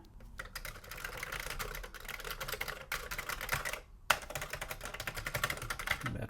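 Rapid, steady typing on a Commodore 64 keyboard after a keyboard fix, with close, crisp key clatter that runs almost continuously, broken by a couple of brief pauses.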